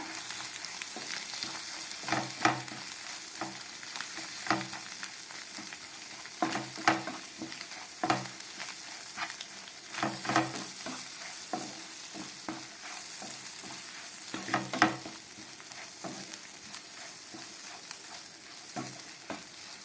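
Curry and mango pickle are mixed together in a hot pan, producing a low continuous sizzle with clusters of spoon scrapes and knocks recurring every couple of seconds, close and moderately loud.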